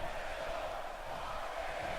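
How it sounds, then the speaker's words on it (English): A large arena crowd roars steadily in the WWE 2K16 wrestling game, a constant dense wash of cheering at moderate volume with no breaks over two seconds. "The crowd heavily behind Randy Orton at this point"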